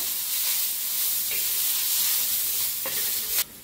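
Green chilies, peanuts and coriander roast in a pan, giving a steady, close sizzle with brief scraping stirs and no talking, ending in a sudden drop near the close.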